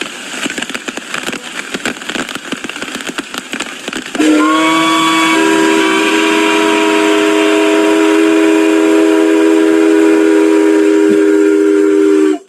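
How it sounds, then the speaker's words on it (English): A K5H five-chime horn blown in the rain, opening with hissing spray and rattling, then a loud sustained five-note chord that holds steadily for about eight seconds and cuts off sharply. "it is a 5 chime, so K5Hs do have 5 notes"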